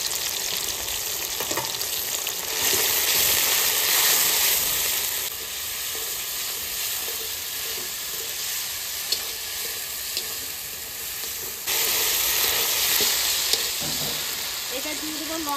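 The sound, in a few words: ginger, garlic, dried chili and cumin paste frying in a pan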